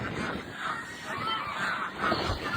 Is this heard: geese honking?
yes